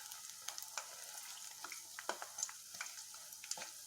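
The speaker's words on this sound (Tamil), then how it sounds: "இப்போ பொரிஞ்சதெல்லாம் திருப்பி போட்டுட்டு இருக்கிறேங்க" Sweet snack balls and urad dal vada fry in hot oil with a soft, steady sizzle and small crackling pops, mixed with faint scrapes as they are turned.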